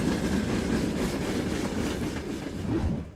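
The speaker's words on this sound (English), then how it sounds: "When it's carrying you into the raid, it makes little like chugga chugga chugga sounds, like train sounds." Train chugging in the video game ZERO Sievert, a steady rumbling rattle of rolling wagons with a rhythmic clickety-clack, close and loud, fading slightly at the end.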